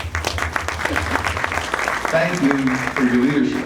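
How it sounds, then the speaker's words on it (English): A banquet audience at a Republic Day celebration applauds association members with a dense burst of clapping, and a voice speaks over the tail end. "Please give them a round of applause."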